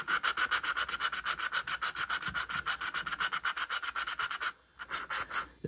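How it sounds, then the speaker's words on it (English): An original engine valve on a Honda XR200 is lapped into its seat during a top-end rebuild, producing a fast, rhythmic gritty rubbing that repeats steadily, pauses briefly, then resumes for a few strokes, with no voices. "This one's probably not going to need a whole lot of lapping done to it"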